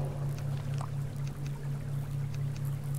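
Water pours out in the survival video game Subsistence, a soft, low running trickle over a steady hum, faint and continuous for a few seconds.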